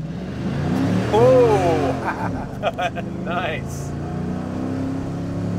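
A hot rod engine revs hard and climbs in pitch, then drops back, with a person exclaiming briefly over it.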